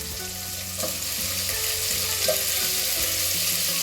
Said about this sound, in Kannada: ಈಗ ಆಲೂಗಡ್ಡೆ ಚೆನ್ನಾಗಿ ಹೆಚ್ಚಿ ತೊಳೆದಿಟ್ಟಿನಿ ನೀರಾಗ ಆಲೂಗಡ್ಡೆ ಸ್ವಲ್ಪ ಹಾಕ್ತೇನೆ